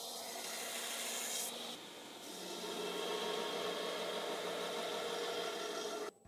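Disc sander grinding the flat faces and false edge of a Damascus steel Bowie blade, a steady loud abrasive rasp with motor hum that briefly eases near the middle, then continues before cutting off at the end.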